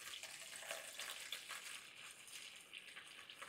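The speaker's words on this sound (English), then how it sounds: "Then I put 400 grams of water in here." Water, about 400 grams, pours into a heating pan on the stove with a soft, steady splashing rush, faint and close, with no talk over it.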